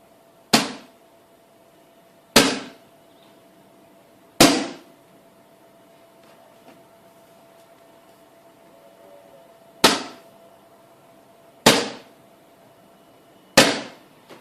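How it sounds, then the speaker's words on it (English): Hammer and lump hammer blows strike a polycarbonate roofing sheet in a strength test: six sharp, loud, separate impacts with short ringing decays, spaced unevenly with quiet gaps between them. "hitting the polycarbonate with the hammer and then a lump hammer if necessary"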